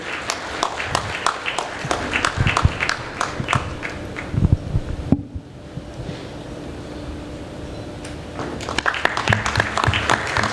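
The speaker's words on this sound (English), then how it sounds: "Have a huge round of clap." Conference audience applause at an IT/ITES conclave, a dense spread of claps heard throughout, fading briefly in the middle before picking up again, moderately loud in a hall.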